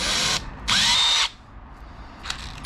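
Handheld power drill boring a hole freehand in two loud, close bursts of high whining spin separated by a short pause, followed by faint tapping.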